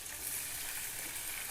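Green chillies fry in hot oil in a pan, making a steady, close, soft hiss throughout the short stretch with no voices.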